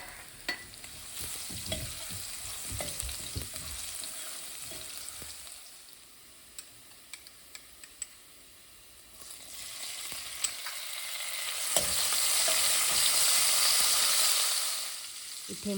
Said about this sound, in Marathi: आणि बारीक चिरलेलं लसूण घालून घेतलं आहे. ते थोडं फ्राय झालं की मी त्यात मिरची घालून घेणार आहे.